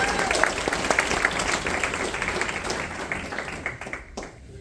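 Applause from a storytelling-night audience, a dense steady wash of many hands clapping close by, holding strong for about four seconds before thinning and fading out.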